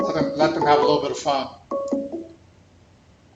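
Incoming call alert on a phone during a live crypto market show, heard as a short tonal chime burst after a man's speech ends, then a brief fading tail.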